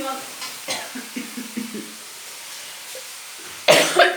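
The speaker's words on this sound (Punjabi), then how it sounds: "ਖਾਂਸੀ ਬਹੁਤ ਹੁੰਦੀ ਆ ਮੈਨੂੰ" A few short, harsh coughs burst out near the end, after a stretch of quiet kitchen clatter and soft stirring sounds while a bell pepper dish is cooked.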